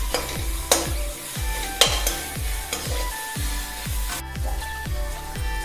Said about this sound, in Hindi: 2 बड़े चम्मच अदरक लहसुन की पेस्ट, 2 बड़ी शिमला मिर्च और 6-7 हरी मिर्च बारीक कटे हुए, अच्छे से सेकेंगे